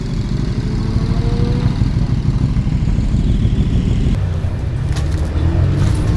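A KTM Super Duke superbike engine idles close by, a loud, steady low throbbing rumble that shifts slightly in tone near the end, with faint voices in the background.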